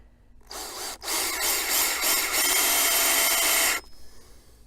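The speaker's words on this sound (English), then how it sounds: "All I gotta do is just drill through it." A power drill whines loudly for about three seconds with a brief stutter near the start, then stops abruptly.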